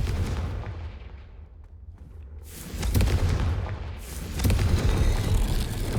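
A Confringo spell bursts in Hogwarts Legacy with a deep booming blast, then more rumbling impacts rolling into a dense, sustained roar of low-heavy explosions and debris over several seconds.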